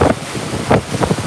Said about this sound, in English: Big gust of wind again.